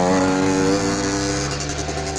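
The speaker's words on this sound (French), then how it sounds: "Bon là il y a une moto." A motorcycle engine drones loudly and steadily close by, its tone holding even with a slight fade toward the end, with no talking.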